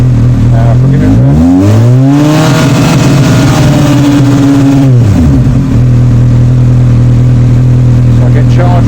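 Honda CBF1000 motorcycle engine, stationary and warm with the cooling fan running, idling loud and close before being revved up, held at higher revs for a few seconds, then dropping back to a steady idle.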